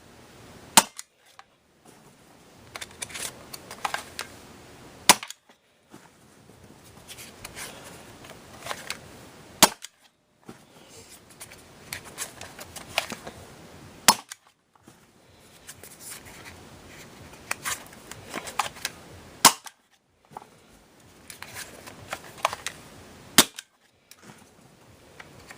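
Umarex Rekt OpSix CO2-powered Nerf pistol firing foam darts, including waffle-tip and Elite copies: sharp cracking shots in irregular bursts separated by brief pauses, with hissing gas release between shots, close and alone.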